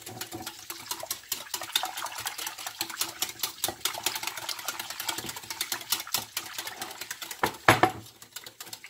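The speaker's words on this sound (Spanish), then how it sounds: "Para esas personas que no tienen batidorita de mano para licuar todo esto o batirlo, pues así o con un tenedor." A fork beats a condensed milk flan mixture in a bowl, giving rapid, continuous clinking and sloshing strokes that stay fairly even throughout.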